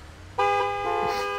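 A single loud car horn honk in a video game, sustained for about a second with a slight dip partway, against faint engine hum.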